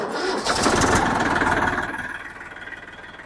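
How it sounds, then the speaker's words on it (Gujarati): A farm tractor engine cranks and catches with a loud rumbling burst, then settles and fades into a throbbing idle as it pulls back, close by and without talk. "ત્યાંથી ટ્રેક્ટર જરાક રિવર્સ લઈ જાઉં છું"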